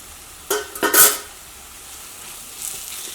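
Turmeric powder frying with onion masala for a Kerala-style nadan chicken roast, heard as a few quick scraping stirs with sizzling in a pan, followed by a faint, quiet sizzle.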